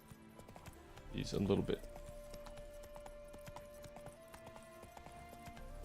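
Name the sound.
horse hooves clip-clopping in the video game The Witcher 3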